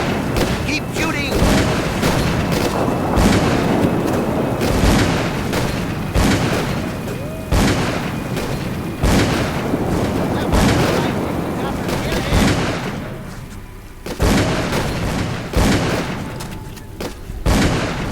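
Rapid, loud gunfire in the horror game Call of Cthulhu: Dark Corners of the Earth, dense booming shots hammering almost without a break, with shouting voices mixed in.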